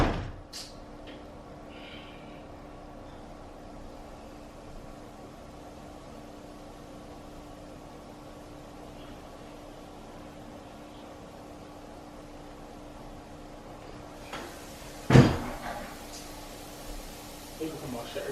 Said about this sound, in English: Slamming the doors. I'm just closing doors.